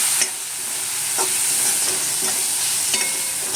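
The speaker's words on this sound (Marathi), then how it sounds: "आता आपण हे सगळे मसाले एकत्र टाकणार आहोत आणि त्याला आपण चांगलं फ्राय करून घेऊया" Spices fry for a pomfret curry in a hot pan, giving a continuous close sizzle with occasional sharp crackles and stirring taps, without any voices.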